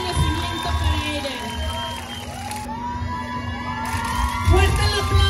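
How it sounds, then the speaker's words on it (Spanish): A crowd at a beauty pageant cheers, whoops and claps in a continuous, fairly loud burst of mixed voices and applause, with shouts rising and falling over the noise. "Fuerte el aplauso y un gran reconocimiento para ella."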